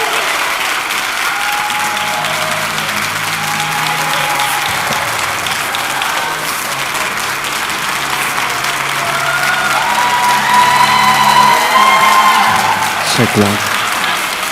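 An audience at an author event applauds loudly and steadily for a long stretch, a dense roar of clapping with some crowd noise, while a voice speaks briefly into a microphone over it.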